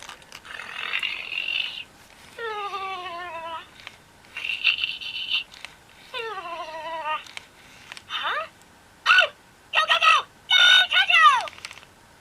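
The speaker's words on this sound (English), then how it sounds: "So this is what a Furby sounds like whose batteries are running down." A Furby toy voice with low batteries chirps and warbles in short bursts with pauses between, sounding harsh and crackly, close up with no other sounds.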